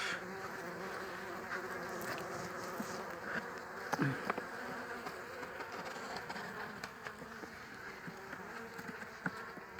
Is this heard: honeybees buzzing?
yes